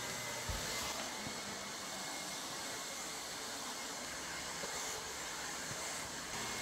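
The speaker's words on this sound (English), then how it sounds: "So I'll go ahead and press the button and it'll start vacuuming." A Lefant M200 budget robot vacuum cleaner runs indoors, giving a steady broadband whirring hum that holds evenly throughout, with faint knocks and bumps under it.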